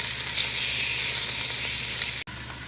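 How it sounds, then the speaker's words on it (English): Meat browning in a hot pot on the stove for Creole red beans and rice gives a steady, loud broadband sizzle, with one sharp click and a brief dropout near the end; no one speaks. "The browning gives the meat some really good flavor."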